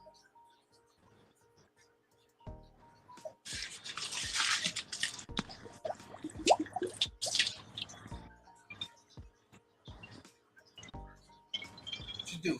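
Water dripping and splashing as rainwater is collected for watering plants, wet sloshing and clinking bursts in the middle, quiet before and after.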